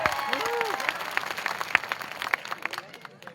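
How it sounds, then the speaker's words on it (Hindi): Scattered applause from a crowd during a speech, uneven claps rising and fading over a couple of seconds, with some voices underneath. "उनके लिए ताली बजाइए दोस्तों"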